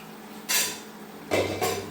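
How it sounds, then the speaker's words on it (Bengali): A lid lifted off a cooking pot of simmering eggplant, giving short metallic clatters: one scrape near the half-second mark, then two quick knocks close together, close by and moderately loud. "ঢাকনাটা তুলে ফেলি।"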